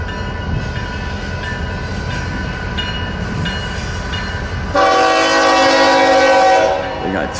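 Norfolk Southern locomotive leading a freight train through a rail crossing at Fremont, rumbling steadily past, then a loud sustained multi-tone horn blast for several seconds near the end.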